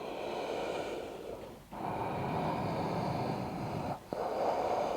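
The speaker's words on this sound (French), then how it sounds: "Une profonde et longue inspiration, une profonde et longue expiration." Deep, steady yoga breathing through the nose while holding downward dog in a sun salutation, long continuous airflow with two brief pauses between breaths, close and fairly quiet.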